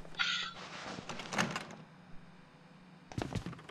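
A door in the Outlast asylum swings shut in two parts: a scraping, shuffling movement, a pause, then a solid thunk with a short rattle, close and moderately loud.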